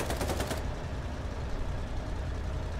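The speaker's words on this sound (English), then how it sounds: "Mow him down with that fucking chain gun" Rapid burst of chain gun fire in a combat video game, a quick run of loud sharp shots in the first half-second, then a rumbling engine-like drone continues.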